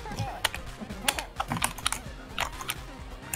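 Computer keyboard typing during a Gang Beasts game, with rapid clustered clacking keystrokes close to the mic.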